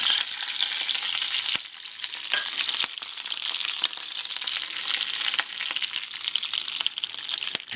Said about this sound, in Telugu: కొంచెం రెడ్ కలర్ వచ్చేలాగా బాగా మంచిగా ఫ్రై చేసుకుందాం